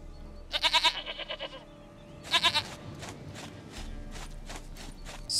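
In a video game, a goat lets out two shaky, trembling bleats close up, the first longer and the second brief, then light hoof clops and rustling follow.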